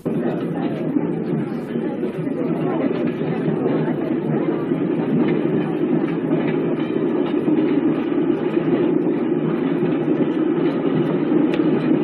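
Third-class train ride on the Calais–Paris line: a steady, loud low rumble of carriage and engine running continuously throughout, with a dense mid-range roar and no distinct breaks.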